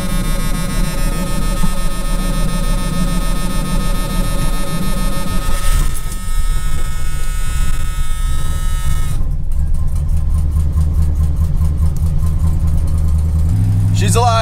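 An engine cranks and fires in cold weather, settling into a rough, uneven idle close by with a talking voice partly over it, then a faster rattling buzz in the latter half.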